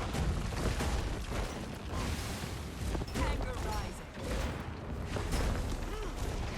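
Fire attack explosions in the Guild Wars video game (Secrets of the Obscure), a dense, continuous barrage of crackling bursts and booms with clustered pops under a busy game mix, with a voice talking over it.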